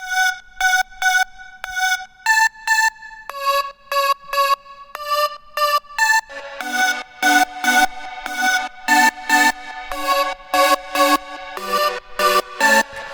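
A bright synth lead plays a catchy staccato hard house melody in repeating rhythmic phrases, joined partway through by fuller backing layers, loud and clear with no voices.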